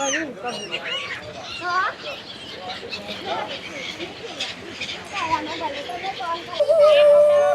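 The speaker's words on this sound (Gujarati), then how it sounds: "આ જો અહીંયા કેવડું પંખી છે" Large water birds calling at Gomti Ghat in Dwarka. Honking, goose-like calls repeat irregularly and fairly close, mixed with people talking and the bustle of the ghat.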